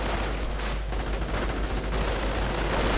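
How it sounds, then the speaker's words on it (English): MP44 assault rifles fire in a World War II strategy video game, a dense, continuous crackle of gunfire, with no speech. "the entire rifleman team is cut down by the assault rifle fire"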